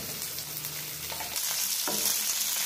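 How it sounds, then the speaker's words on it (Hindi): Garlic cloves and onion frying in oil for a Malvani crab masala curry, a continuous close sizzle with light stirring scrapes and no talk. "लहसुन की कलियां और प्याज और अब इसे अच्छे से भूनना है"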